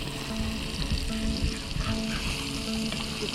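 Steak and spicy cauliflower sizzle together in a Lodge cast iron pan over a hot campfire, a dense, continuous crackling fry up close with faint stirring scrapes and no voices.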